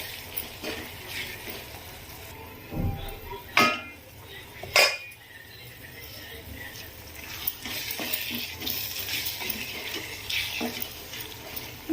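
Potato curry being stirred in a pan with a spoon, then a lid set on it: scattered scrapes and a couple of sharp metallic clanks near the middle over a steady low sizzle-like hiss.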